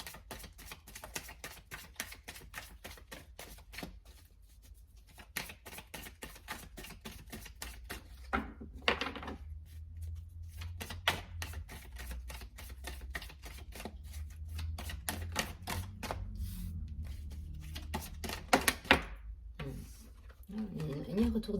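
Oracle cards handled and shuffled close by, a long run of quick, dry riffling taps in steady bursts with short pauses, over a low background hum.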